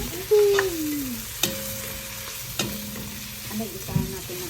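Chicken being sautéed with tomato sauce in a pan for guisadong manok, with a soft sizzle under scraping stirs and a few sharp utensil knocks, close and moderately loud, no talking.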